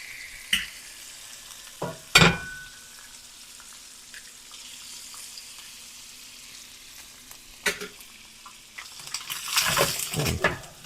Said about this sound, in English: we are going to cook an egg in each one